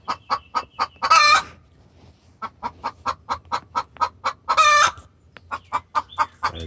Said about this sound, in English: this is the chicken's distress call calling the rooster